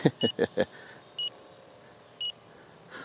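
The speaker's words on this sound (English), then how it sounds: "My timer." Short electronic flight-timer beeps sound during an FMS 70mm Viper 15th Anniversary Edition RC jet flight, two clear tones about a second apart following a quick burst of four pulses, with faint ducted-fan whine in the background.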